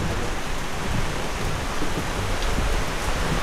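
Heavy rain pours steadily onto surfaces outdoors, a dense, unbroken hiss with low rumbling underneath, loud and constant throughout with no voices.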